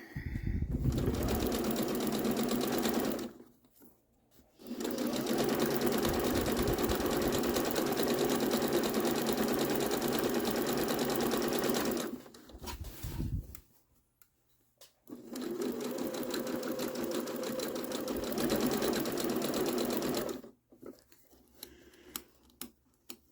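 A sewing machine stitches a self-binding doll quilt, running in three long steady bursts of rapid, close mechanical chatter separated by brief pauses.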